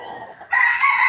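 A breeding rooster (broodcock) crows loudly and close by, one strong sustained call that swells in partway through, with no talking.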